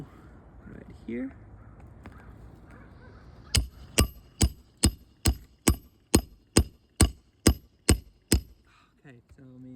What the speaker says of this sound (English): some heavy hammer hits.